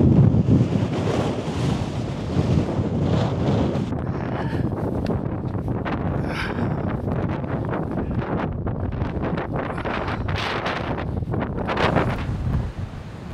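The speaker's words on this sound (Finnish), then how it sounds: "Koko päivä on ollut ihan järkyttävän kova tuuli." Strong, continuous wind in Arjeplog, Sweden buffets the microphone with a roaring rumble and gusty surges throughout, with a watery, wave-like wash underneath.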